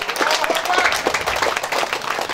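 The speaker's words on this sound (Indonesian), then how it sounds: "Tepuk tangan." Applause from a crowd at a halal bihalal gathering of political supporters in East Lombok, a short burst of close, busy hand clapping with some crowd noise mixed in.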